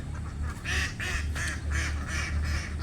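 Domestic ducks give a run of loud, nasal quacks in quick rhythmic bursts, about five calls in three seconds, close by, with a low background rumble.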